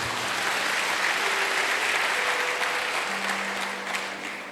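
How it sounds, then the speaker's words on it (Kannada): A church gathering breaks into steady, dense applause from a sizeable crowd, holding at an even level for several seconds before easing slightly at the end. "ಅದಕ್ಕೊಂದು ಜೋರಾಗಿ ಚಪ್ಪಾಳೆ"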